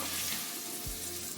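Sliced onions fry in a pan, a faint steady hiss and crackle with a low hum underneath, brief and without speech.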